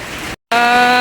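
Steady, dense hiss of rain pouring down, broken by a short moment of silence before the downpour resumes just as loudly.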